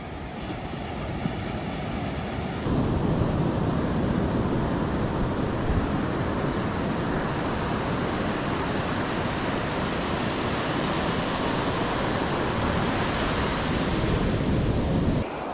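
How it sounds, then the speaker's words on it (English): Calm ocean surf on a wild beach in Olympic National Park near the Ozette River, with no wind: a steady, full wash of breaking waves rolls on continuously and close by, with no voices. "I imagine these waves are surfable sometimes."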